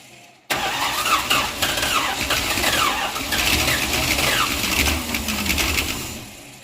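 A 1968 Dodge wagon engine, neglected for 25 years, catches and starts up, then runs roughly with a loud, uneven sputtering rumble and raspy exhaust.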